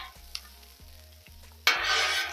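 Vegetables stir-fried with chicken on a Blackstone griddle, a few soft scrapes and taps of a spatula, then a sudden loud, steady hiss of searing that fills the rest of the moment.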